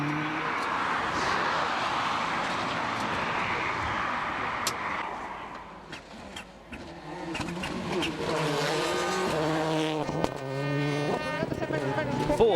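WRC rally car from the 2005 season driving a stage with an engine water leak and high engine temperature, its engine droning loudly and steadily, then revving with rising gear-change sweeps in the second half, under a commentator's voice.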